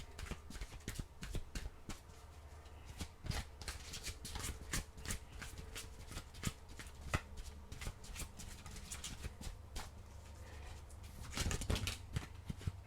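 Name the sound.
shuffling oracle cards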